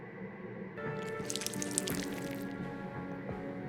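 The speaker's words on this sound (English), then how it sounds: "I'll go and add some water." Water being added to a clay mold in the game Whispers of a Machine: a faint tonal backdrop, then a soft trickling pour with drips that runs about two seconds before fading.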